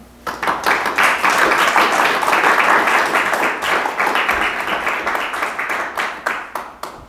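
A lecture audience breaks into sustained applause for a speaker being welcomed to the stage, dense overlapping claps rising quickly and holding steady for several seconds before thinning slightly.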